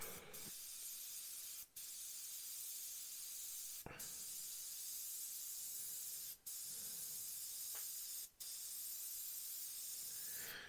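Premium 0.3 mm Galeri Mobius airbrush spraying paint onto a 1/32 Revell He111 model, a steady close hiss running continuously with a few brief breaks between passes.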